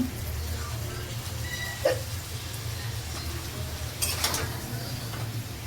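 A curry is stirred and sautéed in a pan, with a low steady sizzle under a few metallic spoon scrapes and clinks against the pan.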